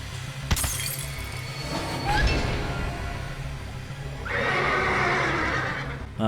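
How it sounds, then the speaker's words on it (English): A creature in the video game Parasite Eve II lets out a horse-like whinny amid crashing, glass-like breaking noises and a steady game soundtrack, fairly loud with no talking. "Horse noise, eh?"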